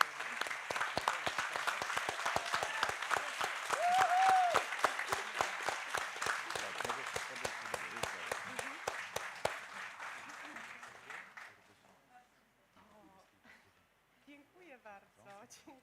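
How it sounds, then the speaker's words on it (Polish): An audience applauds at a festival closing ceremony, a loud, dense and sustained round of clapping that lasts about eleven seconds before dying away, followed by quiet talk. "niech te brawa po prostu wybrzmią dla nich"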